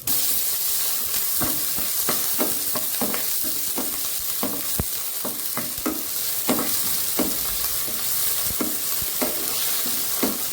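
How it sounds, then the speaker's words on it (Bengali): A dried red chili frying in hot oil in a pan for an egg bhurji base, with steady close sizzling broken by frequent sharp stirring scrapes and clicks throughout, no voices. "তেলটা যখন গরম হয়ে যাবে তখন দিয়ে দিচ্ছি একটা শুকনো লঙ্কা।"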